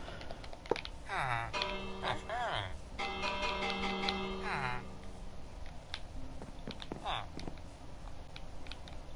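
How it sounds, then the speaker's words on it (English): A villager bell in Minecraft is struck and rings with bright, sustained metallic tones that shimmer over a few seconds, heard alongside steady background game ambience. "What if I ding the bell?"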